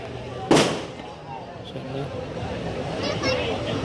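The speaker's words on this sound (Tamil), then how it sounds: "கிட்டத்தட்ட ஒரு பத்து நிமிஷத்துக்கிட்ட இந்த வான வடிக்கின்றது இங்கே நடந்து கொண்டே இருக்குது" A firework bursts with a sharp boom near a clock tower during an ongoing display lasting around ten minutes, followed by distant crackling and pops under the steady babble of a crowd and people talking nearby.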